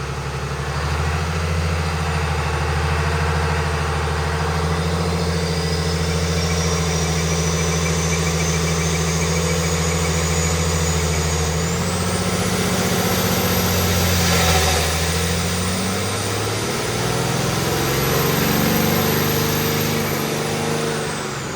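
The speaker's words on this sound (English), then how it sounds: "You can definitely hear the turbo way louder than it's been with the box and the air filter in it." A 12-valve Cummins diesel engine runs on a dyno with its air filter and airbox removed, a loud steady drone under a rising, whistling turbo whine that swells and falls as the engine revs.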